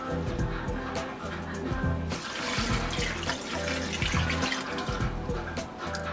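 A kitchen tap runs water in a steady splashing stream during home cooking, continuous and fairly close, with faint kitchen clatter and brief low talk in the background.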